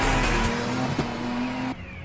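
A rotary-engined race car in a mountain touge race from the anime Initial D roars at high revs under hard acceleration, loud and continuous before cutting off abruptly.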